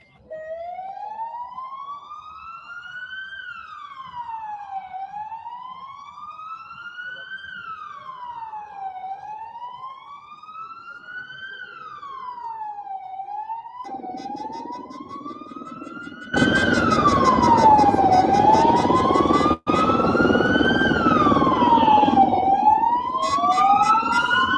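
A police siren wails in a crowded street, its pitch sweeping up and down in slow repeated cycles; midway a second, louder siren joins with denser noise and engine rumble, and the wailing continues nearby to the end.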